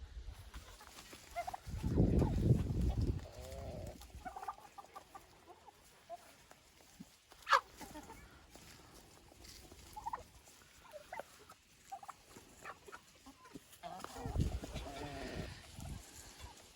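Turkeys in a garden gobble in loud bursts near the start and end, with scattered clucks from chickens and farmyard noises in between.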